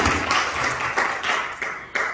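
A church congregation claps in a handful of sharp, uneven bursts that gradually thin out, moderately loud with a roomy ring and no voices.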